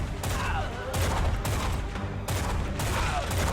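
Rapid gunfire bursts from shooting enemies in a Doom-style survivor shooter game, loud and continuous with repeated volleys across the whole stretch, a voice faintly present beneath.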